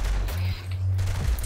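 Shotgun blasts in the video game Saints Row 3 during a horde mode match, heavy low booming shots over a steady rumble of game background noise, with no talk.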